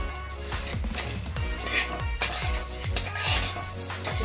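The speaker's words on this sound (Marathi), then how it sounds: "तर शेवया करण्यासाठी आपल्याला तूप लागणार आहे आपल्याला छान गोल्डन कलरवर भाजून घ्यायचं आहे" Vermicelli roasting in ghee in a pan, with a spoon scraping and clinking against the metal in repeated strokes over a soft sizzle, close and fairly loud.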